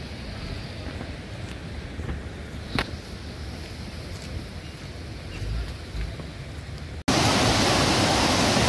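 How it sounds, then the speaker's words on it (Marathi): Namnang Chho waterfall on the route toward Nathula Pass, heard as a soft continuous rushing wash from a distance, then abruptly much louder and closer for the last seconds. "समोर जो आपण धबधबा पाहता तो आहे नामनांगचो वॉटरफॉल"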